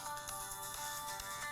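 A phone ringtone plays on and on, loud and steady, with a bright repeating electronic melody and no voices over it.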